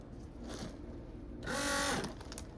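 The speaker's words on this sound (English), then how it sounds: "All right, we got the macerator pump going." A small RV macerator pump for sewage dumping whirs to life partway through, a brief surge of mechanical hum over a steady low background drone.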